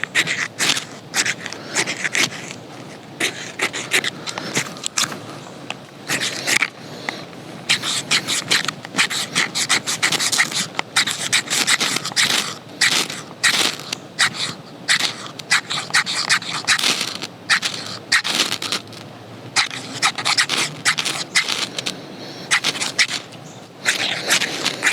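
The spine of a non-serrated Demko Armiger 2 knife scrapes in quick repeated strokes, a dry rasping scratch rising and falling in bursts, close up with no talk.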